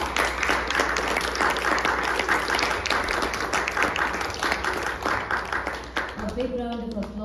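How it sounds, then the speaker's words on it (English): Sustained applause from a concert audience after a vocal and violin performance, dense steady clapping filling the hall for several seconds before it thins and a voice begins speaking near the end. "A big round of applause for such a majestic, musical and melodious concert"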